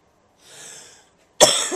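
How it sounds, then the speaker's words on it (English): A faint rough breath or throat sound, then a sudden loud, harsh cough close by, with no talking. "Sorry, I keep coughing."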